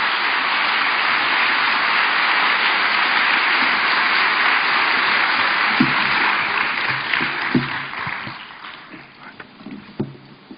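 A church congregation applauds to welcome a visiting pastor from Guatemala, a sustained dense wall of clapping filling the hall, thinning out and fading toward the end.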